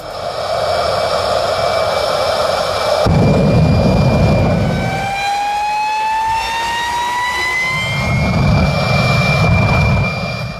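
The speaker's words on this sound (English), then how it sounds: "the sound of the modified Daihatsu Mira is similar to that of an airplane" Jet engine fitted in a modified Daihatsu Mira amateur race car, a loud roaring whine with rising turbine tones that sweep upward as it spools, surging in bursts and staying close and dominant throughout.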